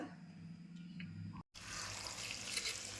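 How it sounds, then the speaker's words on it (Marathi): Water splashes and sloshes steadily in a basin as drumstick (moringa) leaves are rinsed in salted water, briefly cutting out before the washing resumes, louder and fuller. "मीठ वगैरे टाकून दोन तीन पाण्याने धुवून घेणार"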